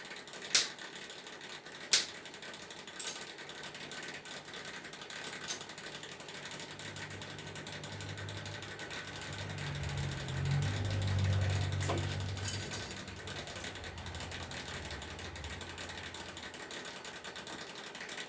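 A hose clamp is ratcheted tight around a wire-wrapped hose, giving sparse, faint clicks and a few sharper ticks spread over a quiet background with a low rumble midway.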